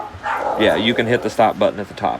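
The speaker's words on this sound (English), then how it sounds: "Excuse my dogs, they're barking downstairs." Dogs bark downstairs, distant yips and woofs mixed under a person talking close by.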